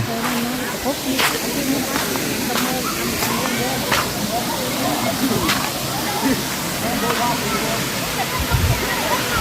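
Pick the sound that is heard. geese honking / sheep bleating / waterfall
waterfall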